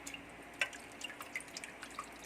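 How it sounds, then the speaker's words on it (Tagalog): Weak trickle from a tap dripping while rice is washed, a quiet scatter of small water drips and splashes at close range with no talk. "Matagal ko lang hinuhugasan yung bigas kasi tignan mo, napakahina ng tubig dito sa amin."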